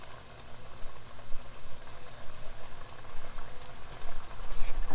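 Thinly sliced swordfish pieces dunked into hot frying oil for fish and chips set up a dense, bubbling sizzle that stays steady and swells slightly toward the end, with no voices.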